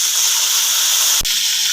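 Water pours into a pan of browned onions, ginger and garlic, giving a loud, steady gushing hiss with one brief dip partway through.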